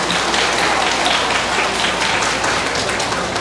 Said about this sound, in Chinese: 我们掌声为他们鼓励一下好不好？